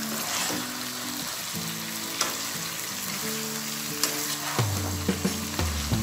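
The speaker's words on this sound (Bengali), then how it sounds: "বারবার আমি নিচের দিক থেকে মাংসটাকে নেড়ে চেড়ে দিব, না হলে মশলাটা নিচে লেগে যাবে।" Beef stirred up from the bottom of a pan through thick spice masala for a black beef bhuna, with a loud continuous frying sizzle and irregular scraping strokes up close, no voices.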